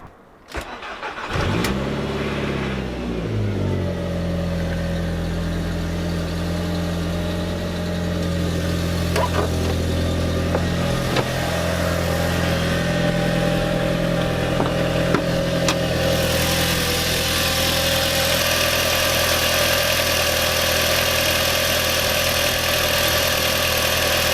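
A car engine, with a fuel pump primed first, cranks briefly and catches, then settles into a steady, loud, close idle that runs on with a faint rising whine and no talk.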